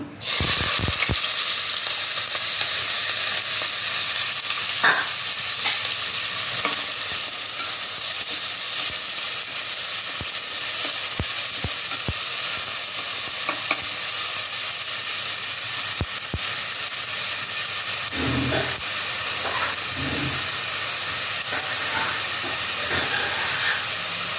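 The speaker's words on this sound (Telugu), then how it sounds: "ఇప్పుడు ఆయిల్ వేస్తానండి. దీంట్లో ఆనియన్స్ వేస్తున్నాను." Onions fry in hot oil on the stove with a loud, steady close sizzle and hiss, broken by occasional clicks and scraping stir strokes, while a mutton bone soup is prepared.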